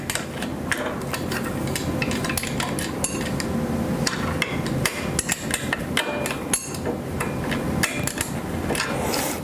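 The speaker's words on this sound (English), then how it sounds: "We'll loosen the bolts that the rotor are affixed to." Sharp metallic clanks and taps from tools working loose the bolts holding an axle's brake rotor, irregular and close, with ringing hits scattered over a steady shop background.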